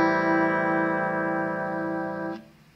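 An electric guitar plays a single sustained chord with no effect applied, ringing steady and clean for about two seconds before it is cut off abruptly.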